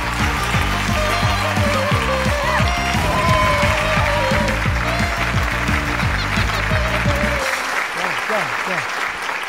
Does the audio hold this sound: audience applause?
yes